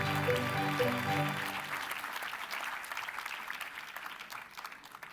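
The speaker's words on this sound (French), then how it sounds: "on peut les applaudir encore une fois" Applause at a doctoral graduation ceremony, a dense burst of clapping from the audience that starts strong and gradually thins and fades over a few seconds.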